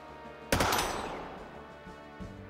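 A single loud gunshot in the game SteamWorld Heist II bursts out and rings down slowly, then a faint second thump follows near the end.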